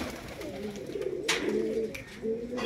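Domestic pigeons, a hen among them, cooing close by in a loft, soft throaty rolling coos repeating over a few seconds with a faint click or two and no talk.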